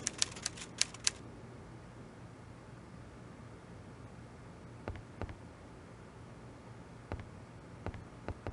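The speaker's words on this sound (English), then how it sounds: "I say, Poirot, he seems to be typing up quite a storm." A burst of typewriter keystrokes, quick sharp clacks in the first second, then sparse isolated key strikes later over a steady low background hum.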